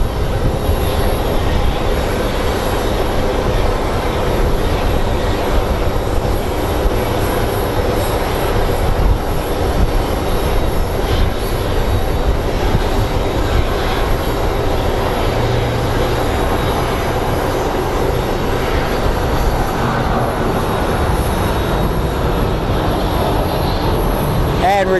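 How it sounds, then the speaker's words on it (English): Airplane at Sky Harbor International Airport, a loud, continuous engine roar that rumbles steadily through the whole stretch with a broad low drone, heard from outdoors at the airfield. "And Regina is up on that plane, so safe travels, Regina."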